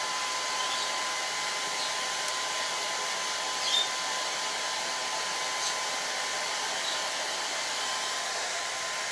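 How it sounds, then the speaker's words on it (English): A blow dryer running on a DIY bumble bee potted plant craft, a steady loud airy whoosh with a faint tonal whine, continuous for the whole span without talk. "Okay, I'm going to blow dry this again."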